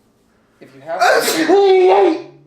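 A single loud, close human sneeze with a sharp intake and burst, followed by a brief voice right after.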